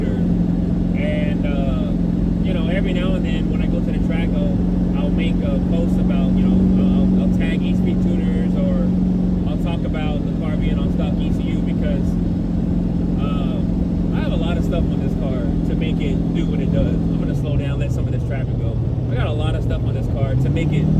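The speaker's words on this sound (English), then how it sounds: "I'm going to drive on the highway now for a little bit, and I'm going to lean into it here in a second." A 1400hp turbocharged Corvette with a TH400 transmission cruises on the highway, its loud, steady engine drone shifting pitch now and then, with someone talking over it throughout.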